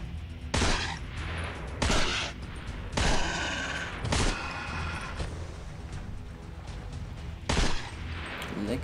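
Hunting rifle shots ring out in Deer Hunter 2018, five loud sharp reports spaced about a second apart, each followed by a short echoing tail.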